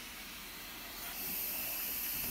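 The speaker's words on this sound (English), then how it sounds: "what it takes to safely let the steam out of your Instant Pot" Steam hissing from an Instant Pot pressure release valve, a continuous broadband hiss that swells noticeably louder about halfway through and then holds steady.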